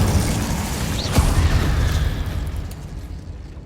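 Incendio fire spell cast in Hogwarts Legacy: a loud whooshing burst of flame with a boom-like impact around the one-second mark, then a rushing roar that fades out over a few seconds.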